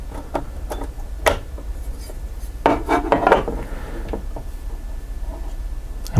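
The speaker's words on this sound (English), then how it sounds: "Let's go ahead and open up the gearbox and see what all is inside." Arcturus AT-NY02-CB M4 airsoft electric gun gearbox being opened: scattered small wooden-sounding rubs, clicks and rasps of parts and screws shifting, with a busier cluster of scraping midway and a sharper knock at the end.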